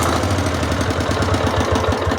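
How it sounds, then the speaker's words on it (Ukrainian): Motor Sich walk-behind tractor engine running loud and close with a rapid, rough low-pitched chugging idle, steady throughout with no clear stop, no voices. "Для того, щоб мотоблочок заглушити"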